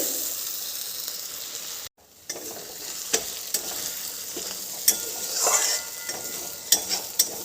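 Spice paste and fish stir-fried in a pan, with a continuous hiss of frying broken by a brief pause, then scraping strokes of a utensil and crackling sizzle returning at steady moderate volume.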